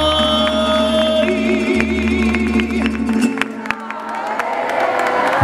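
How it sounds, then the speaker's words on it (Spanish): A crowd cheers and claps over loud mariachi music with a steady bass beat at a Women's Day event, voices whooping now and then as the noise carries on. "Un aplauso bien fuerte"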